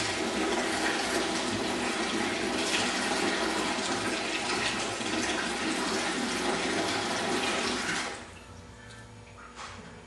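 A gallon of water pours steadily onto a Shamhow absorbent cloth, a loud continuous splashing rush that abruptly drops to quiet near the end.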